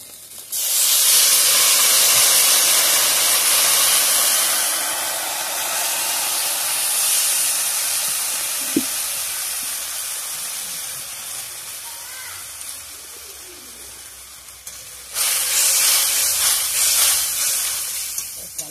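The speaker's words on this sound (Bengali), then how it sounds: "জলটা দিয়ে দেবো।" Water poured into a hot pan while cooking a Bengali spicy morola fish dish bursts into a loud, sustained steam hiss that gradually fades, then surges again near the end, with no talking.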